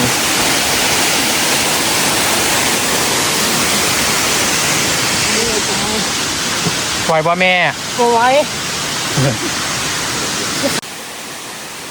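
The waterfall at Phu Kradueng in Loei gives a loud, steady close-up rush of falling water, with a voice briefly heard over the roar.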